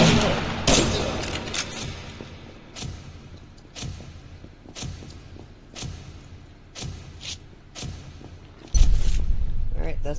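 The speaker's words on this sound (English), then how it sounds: "I think I just heard a gun." Gunfire in the survival video game Subsistence: a series of sharp, fairly loud shots spaced roughly one second apart, with a heavier boom near the end.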